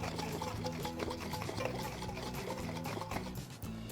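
Butter and cold water sloshing and rattling inside a closed jar as it is shaken steadily and rapidly, close up, with no talking.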